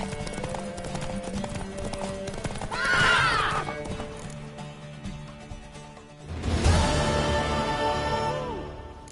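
In the video game The Witcher 3, hooves clip-clop steadily as two shrill horse whinnies ring out, one midway and a louder one later, over a quiet background.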